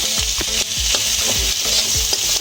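Boiled potato mixed with chopped cashews and raisins in a pan for a veg cheese bread pakora filling, repeated low thuds and scrapes of stirring over a loud, close sizzle, no voices.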